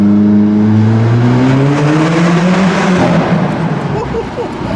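An Alfa Romeo accelerates hard inside a tunnel, its loud, close engine note climbing steadily in pitch with rising harmonics, then fading into a broad echoing roar as the car gathers speed.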